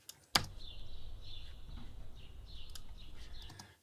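Quiet outdoor ambience in a yard just outside a home, with a sharp click near the start, then faint distant bird chirps over a low background hum.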